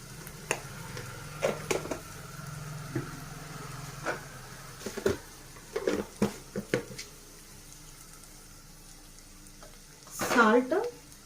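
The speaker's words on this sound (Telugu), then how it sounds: "ఇలా వేగిపోయిన తర్వాత చాలా బాగా వేగిపోయింది." Onions fry in a pan with a steady low sizzle, broken by occasional scrapes and knocks of stirring, ending in a louder burst of sizzling near the end.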